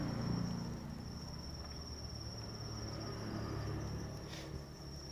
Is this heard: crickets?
yes